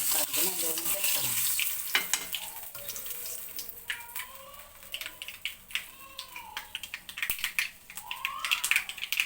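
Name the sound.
mustard seeds spluttering in hot oil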